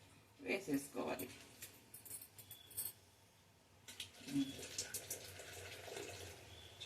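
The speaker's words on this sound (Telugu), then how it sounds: "ఇదిగో కొన్ని నీళ్ళు, వేడి నీళ్ళు ఉంటాయి కదా, అవే నీళ్ళు ఇలా కలిపేసుకొని వేసేసుకోవాలి" Hot water is poured into batter and mixed in, giving soft, intermittent splashes and sloshing close by, with a voice talking over it.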